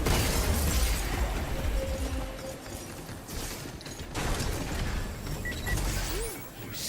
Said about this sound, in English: Leave the shooting to me.